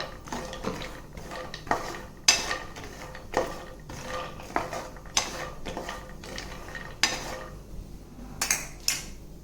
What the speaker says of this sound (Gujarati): આને આપણે 5 થી 10 મિનિટ માટે શેકી લેવાની છે